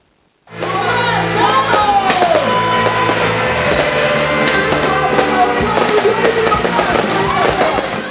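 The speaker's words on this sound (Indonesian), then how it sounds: "Pesta kembang api menjadi primadona detik-detik pergantian tahun" Dense, continuous crackling and booming of New Year's Eve fireworks going off nearby at a park celebration in Lampung, with a jumble of background voices and noise throughout.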